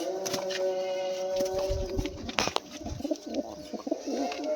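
Pigeons of Sylheti fancy breeds such as Kamagar and Kaldom coo softly at close range, with a few throaty coos and some rustling and brief fluttering.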